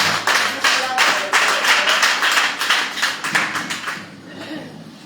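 A church congregation claps together in quick, uneven bursts, loud and close, with the applause gradually tapering off near the end.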